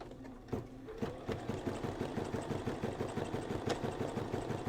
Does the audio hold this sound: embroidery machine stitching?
yes